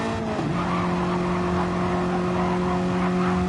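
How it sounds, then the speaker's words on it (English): A badly running race car engine in a NASCAR race, holding a steady droning tone with a sharp pitch drop near the start, loud and continuous, mixed with faint tire noise and no talking. "God, you can hear that car. It's just awful."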